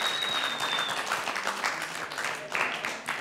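Studio audience applauding on a television game show, a sustained wash of clapping that swells and dips slightly over a few seconds.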